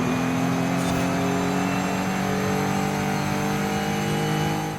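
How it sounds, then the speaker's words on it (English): A race car in Forza Horizon 5 accelerates hard, its mid-pitched engine whining steadily and loud for several seconds with sustained revving harmonics, no talk over it. "Look at that car go."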